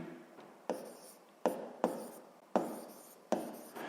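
A pen writes on a paper page during a physics lesson for seventh grade, giving quiet scratchy strokes in short bursts with five or six sharp taps as new marks begin, close and alone.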